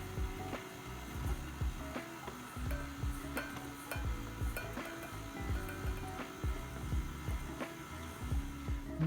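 Vegan, eggless s'mores bar dough gets mixed in a bowl, a rhythmic run of soft scraping and tapping strokes close up, with no voices.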